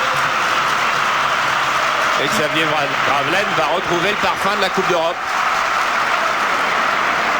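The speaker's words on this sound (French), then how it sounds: "On va écouter le public du Real. Écoutez le stade Santiago Bernabéu." Real Madrid supporters at the Santiago Bernabéu stadium applaud and roar during a 1993/94 Cup Winners' Cup quarter-final against PSG, a dense, steady crowd wash with a commentator talking over part of it.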